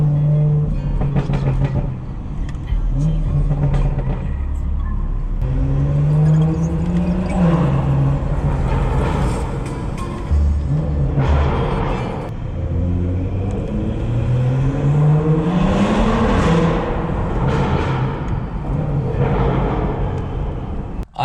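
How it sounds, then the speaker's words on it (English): A modified BMW 440i in Sport Plus mode pulls hard from inside the cabin, its engine rising and falling through repeated rev sweeps and gear changes over a steady road and wind rumble. "Hopefully all you guys hear is the car and not so much the wind."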